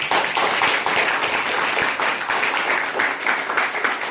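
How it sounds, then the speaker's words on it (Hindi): A hall audience gives loud, sustained applause for girl students being honoured by a social organisation, with dense, continuous clapping close by throughout. "इन बच्चियों के लिए एक जोरदार ताली।"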